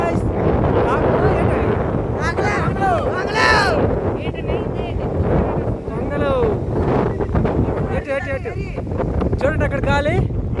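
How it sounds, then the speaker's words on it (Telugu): Strong wind blows across an open roadside, rumbling and buffeting the microphone steadily for the whole stretch, while crows caw repeatedly nearby over the gusts. "ఫుల్గా గాలి అయితే వస్తుంది."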